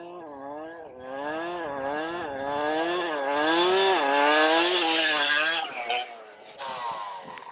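A Kraken RC VEKTA.5 trophy truck's electric motor whines loudly and continuously as it runs a whoop section, its pitch rising and falling in rapid waves over each bump before the sound breaks up near the end.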